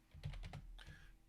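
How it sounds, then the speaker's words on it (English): Faint typing on a computer keyboard, a short burst of several quick keystrokes heard at low level with no one talking over it. "Max is typing"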